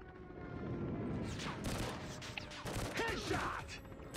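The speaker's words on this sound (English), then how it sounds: "Friendly airstrike incoming." Airstrike explosions and gunfire in a Call of Duty Mobile multiplayer match, sustained rumbling blasts and bursts over several seconds at moderate loudness, with a voice talking over them.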